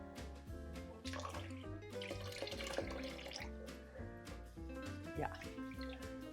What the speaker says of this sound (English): Then I pour in the water